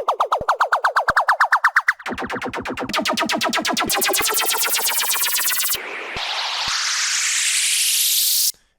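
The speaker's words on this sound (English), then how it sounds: "some impacts, uplifters like these" Tech house impact and uplifter effects play alone: a fast stuttering pulse, then a run of rising synth sweeps that climb in pitch and build to a sharp cut.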